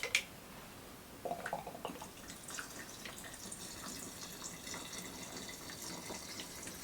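Alcohol is poured over raspberries in a glass jar, making a soft, quiet trickle with scattered drips and small splashes, a bit more active near the start.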